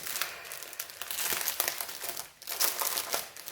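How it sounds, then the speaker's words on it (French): Crinkly plastic sachets of diamond painting colour drills being unwrapped, a dense run of close, busy crackling and crumpling with brief pauses and no talk. "Et au niveau des couleurs, je vais les déballer."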